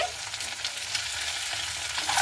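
Eggs frying in oil in a pan for egg curry, a steady close sizzle with faint stirring, no voices.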